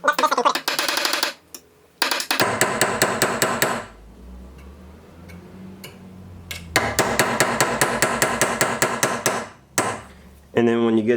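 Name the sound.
hammering wire into steel for wire inlay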